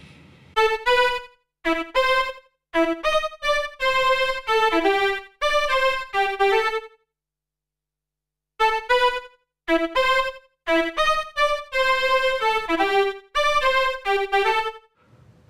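A Studiologic Sledge synthesizer patch with a slow chorus plays a melodic passage of harmonic-rich notes in phrases, with a brief pause midway, clear and alone.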